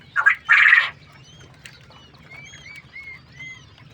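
Running king quails at a bird sale, including silver and white birds, give two loud rough calls close by, followed by softer chirps and faint twittering over low background noise.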